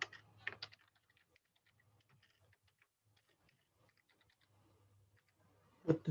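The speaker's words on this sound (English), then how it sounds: "Then type in the message and hit send message." Message being typed on a computer keyboard, with a short burst of close key clicks at the start, faint scattered taps through a quiet stretch, and another loud flurry of keystrokes at the end.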